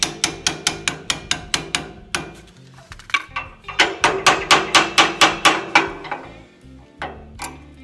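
Hammer tapping a part into a DIY dust collector blower built from a Billygoat debris loader: a quick run of sharp metallic knocks, a pause with softer clinks, then another rapid series of close, loud taps.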